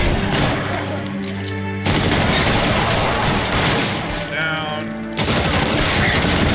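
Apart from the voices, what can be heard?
machine gun fire in video game L.A. Noire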